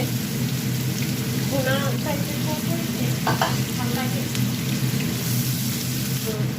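Onions frying in a pan for a Bengali katla fish curry, a steady loud sizzle like rain with occasional stirring scrapes, and some muffled voices in the background.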